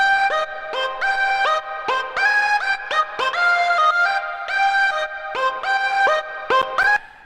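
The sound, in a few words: synthwave lead synth in Ableton Live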